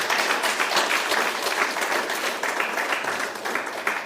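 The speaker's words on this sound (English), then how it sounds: "I think Professor Osuji deserves a more resounding round of applause." Sustained applause from a crowd, dense and even clapping throughout.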